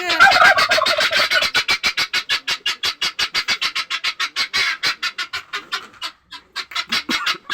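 Hungry chickens clamor for feed, a close, loud run of rapid, rhythmic clucking calls repeated in a steady pulse and broken by a brief pause near the end, with no talking.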